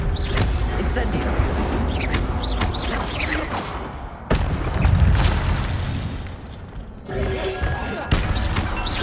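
Incendio fire spell in the video game Hogwarts Legacy, loud whooshing flame bursts and thumping impacts amid busy combat effects, with a pronounced rumbling surge partway through.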